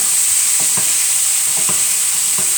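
Beef stew curry with chunky vegetables is stirred in a sizzling pan, giving a loud, constant fry with rhythmic scraping strokes of the spoon, close up and without voices.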